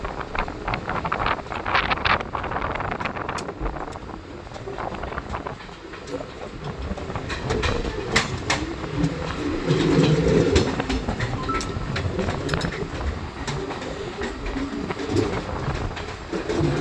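A train rolling along a railway track somewhere on the road toward Meghalaya in Assam, with steady broadband rumble, clicking wheel-rail transients and wind buffeting the microphone throughout.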